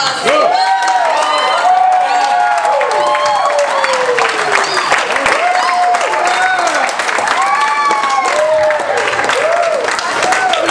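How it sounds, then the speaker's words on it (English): A crowd applauds loudly and steadily, with cheers and whoops rising over the clapping throughout. "Let's give him a big round of applause."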